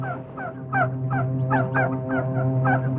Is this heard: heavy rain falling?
no